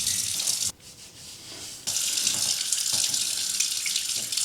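Warm water runs steadily from a sink tap while a face is washed with a cloth, a loud continuous gush with a brief drop in flow partway through.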